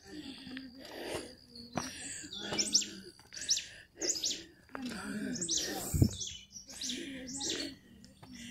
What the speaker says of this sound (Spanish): Pajaritos.